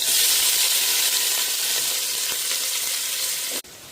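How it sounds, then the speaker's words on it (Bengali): Onions hit hot oil in a pan with a loud, dense sizzle and crackle that continues steadily up close before cutting off sharply near the end; no one speaks. "এখন পেঁয়াজটা আমরা তেলে দিয়ে দিব।"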